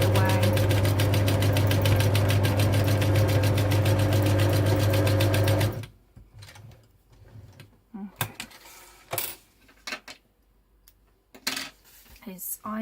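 A sewing machine stitches fabric in a loud, rapid, steady mechanical whir for several seconds, then stops, leaving quiet handling noises and a person talking.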